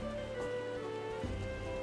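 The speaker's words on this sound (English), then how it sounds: "Rain is gorgeous." Steady rain patters and hisses in Final Fantasy 14, a dense continuous wash of falling drops over a low ambient hum with no voices.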